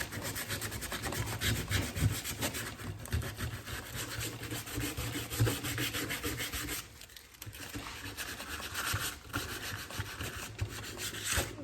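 Painted wooden furniture is scuffed and sanded along its edges for a weathered beach look, producing continuous close rasping and rubbing strokes with a brief pause partway through.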